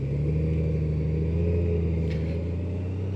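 A 2025 Honda Goldwing motorcycle cruises along a road through Monterey, California, its engine a steady, low, continuous drone close by, with wind and road rumble throughout and no talking.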